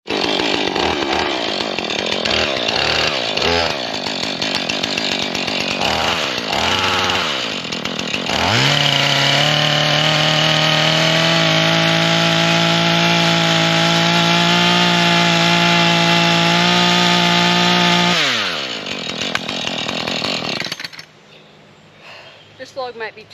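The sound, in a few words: chainsaw with DIY wood mill cutting a log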